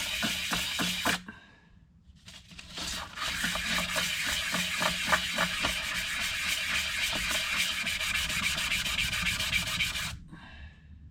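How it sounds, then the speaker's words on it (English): A gasket is rubbed back and forth on 500 grit sandpaper laid over a steel plate, producing steady, rhythmic rasping strokes up close, broken by a brief pause early and ending abruptly. "This is a steel plate and a piece of 500 grit sandpaper."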